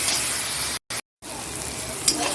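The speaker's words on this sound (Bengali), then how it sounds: "মশলাটা কষানো হয়ে গেছে এবার তাকে আলুগুলো দিয়ে দিলাম" Boiled potatoes go into a pan of spice masala, which sizzles loudly and evenly. The frying drops out briefly twice near the middle, then resumes.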